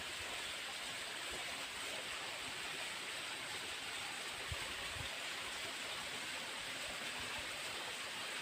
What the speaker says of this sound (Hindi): तो फ्रेंड्स इधर और भी देखो वाटरफॉल